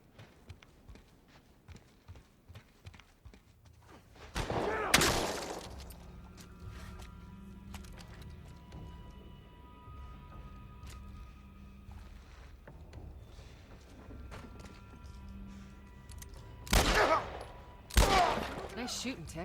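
Gunfire in The Last of Us Part I at the docks comes as a loud burst of shots, then quieter game ambience with scattered sounds, and two more loud close bursts near the end.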